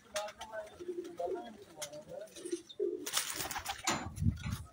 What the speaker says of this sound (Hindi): ये जी उनकी छत से, ये उनके ब्रीडर कबूतर हैं।